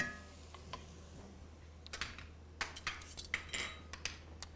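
A spoon stirs brisket stew with tomato and balsamic vinegar in a pot, making quiet, uneven scrapes and clinks against the metal that grow busier partway through.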